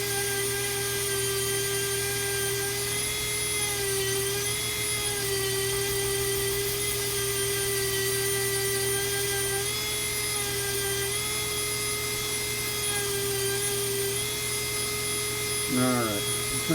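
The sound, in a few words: Dremel rotary tool grinding wood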